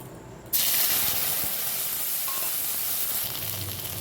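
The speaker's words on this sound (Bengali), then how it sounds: "সেটাকে আমি দিয়ে দেবো এই তেলের উপরে" Ground cumin paste from a grinding stone hits hot oil with a sudden loud hiss that settles into a steady, close sizzle for several seconds with no talking.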